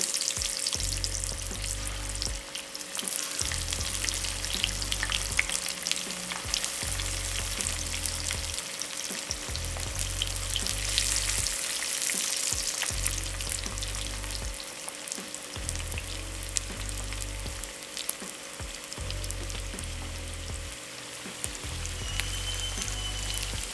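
Pieces of eggplant fry in oil in a pan, giving a continuous close, bright sizzle and crackle with no talk, while a low rhythmic thumping pulse repeats underneath throughout.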